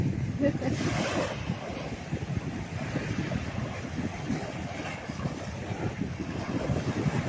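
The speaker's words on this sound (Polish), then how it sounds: "Jeszcze jest zimno, co prawda. Wieje i jest chłodno" Wind blowing at the Baltic seaside in Międzyzdroje, a steady gusty rush buffeting the microphone with surf-like noise throughout, loud and close.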